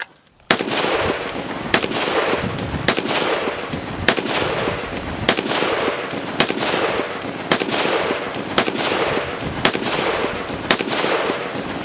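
Rapid rifle fire from a Ruger SFAR .308 semi-automatic rifle, a dozen loud sharp shots in a fairly regular rhythm, each cracking report followed by ringing echo, close and dominant throughout.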